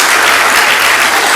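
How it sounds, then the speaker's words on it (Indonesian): Dense, steady applause from a church congregation fills the space continuously, loud and close, with no voices standing out above the clapping. "Tepuk tangan bagi Tuhan Yesus."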